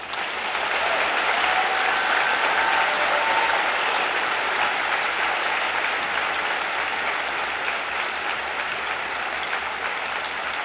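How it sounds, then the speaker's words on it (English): Steady, sustained applause from a large audience at a high school graduation ceremony, a dense even wash of clapping filling the hall with no voices standing out. "Please join us one more time in applauding this talented group of seniors."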